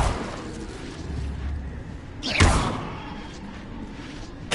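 An Incendio fire spell striking a target in Hogwarts Legacy, a sudden heavy whooshing thud with a fiery burst midway over a low rumbling background, then a fading tail.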